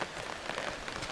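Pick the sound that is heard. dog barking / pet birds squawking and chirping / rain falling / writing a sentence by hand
rain falling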